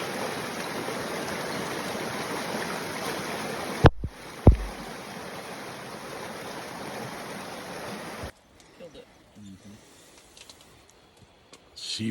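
Rushing creek water flows steadily and close in the rain, with a couple of sharp knocks midway, then cuts to a much quieter, sparser stretch.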